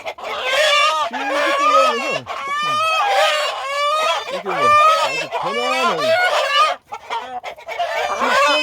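A young rooster being grabbed inside a coop squawks and clucks loudly in frantic, repeated bursts, close to the microphone, with other chickens calling and honking around it and almost no pause.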